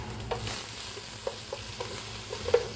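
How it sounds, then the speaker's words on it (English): Garlic, jalapeno and ginger sizzle in a pan while a wooden spoon stirs them, a constant soft frying hiss broken by light scrapes and taps, close and fairly quiet. "So let's start adding the garlic, jalapeno, ginger."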